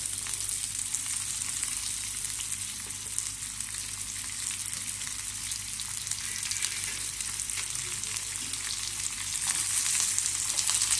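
Sliced onion sizzling in a hot tempering with cumin, a dense continuous crackle and hiss, close and steady with no talk.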